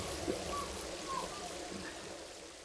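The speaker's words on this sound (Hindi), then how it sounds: "पानी दरिया की तरह बहने लगा।" Water gushing from a barren rock like a river in a Hindi-language telling of the Exodus story, a steady broad rushing flow heard close, with no talk.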